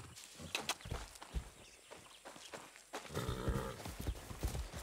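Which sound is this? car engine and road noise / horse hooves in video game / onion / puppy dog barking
horse hooves in video game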